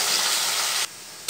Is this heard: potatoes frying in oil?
yes